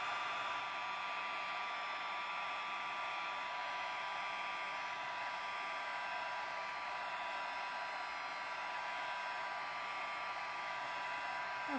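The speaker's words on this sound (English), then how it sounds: "I'm going to heat my heat tool up and let it get good and hot before I melt my" A heat tool blows a steady, even stream of hot air to melt embossing powder on a handmade card, a constant whooshing hiss that runs on without a break.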